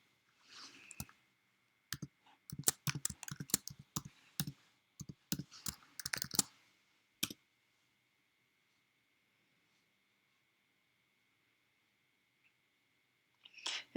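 Keys on a Mac computer keyboard tapped out in a quick burst of clicks lasting a few seconds, close and fairly quiet, followed by a long silence and a brief click at the end.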